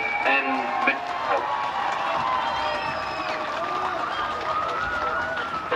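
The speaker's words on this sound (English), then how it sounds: "A round of applause to both Marist and Monaco" Crowd at an under-20 open championship grand final gives a round of applause for both teams, steady clapping with cheering and voices, moderately distant.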